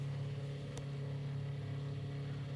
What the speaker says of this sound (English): There we go. The engine is up.